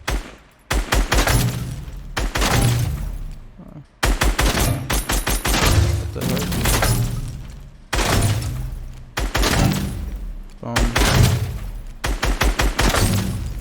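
Rapid bursts of gunfire in Fortnite Chapter 2, sharp repeated shot volleys in clusters separated by brief pauses, loud and close, with occasional breaking sounds and a voice under the shots.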